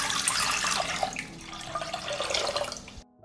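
Water poured into a cooking pot for a bay-leaf, peppercorn, salt and sugar brine, a steady splashing rush running close and loud for about three seconds before cutting off.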